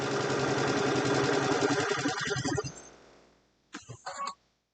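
A serger or sewing machine running a pillowcase seam, a loud, rapid, steady mechanical stitching whir that slows and stops, followed by a brief burst of stitching.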